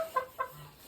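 Two quick clucking calls from poultry in a farm shed where geese and ducks are kept, close and fairly faint, followed by a soft low call.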